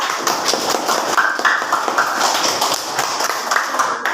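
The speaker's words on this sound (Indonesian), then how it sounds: "Beri tepuk tangan untuk Laila" A classroom of students claps for a fellow student, a dense, fairly loud patter of many hands that runs steadily throughout with no break.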